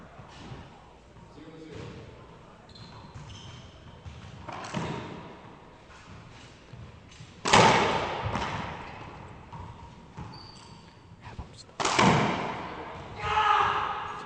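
Racquetball at a Tampa semifinal match, with the ball cracking sharply off the court walls and floor in a few loud, echoing hits, a commentator talking throughout.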